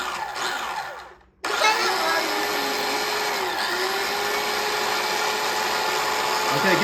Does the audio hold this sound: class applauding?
no